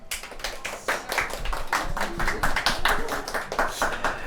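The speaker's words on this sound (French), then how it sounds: "Vous pouvez les applaudir." An audience at a Pokémon manga panel during a fan tour in Angoulême claps in a ragged round of applause, distinct individual hand claps audible up close and sustained throughout.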